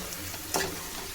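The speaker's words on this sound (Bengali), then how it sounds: "এইবার অল্প করে জল দেবো।" Water poured into a pan of frying cauliflower and vegetables: a steady low sizzle with a sudden loud hissing burst about halfway through, then a settling simmer.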